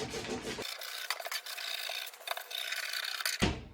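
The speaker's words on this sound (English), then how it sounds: "So now let's cut the trouser." Scissors cut through fabric for women's trousers, a close, steady rasping and scraping at the cloth, heard alone without talk.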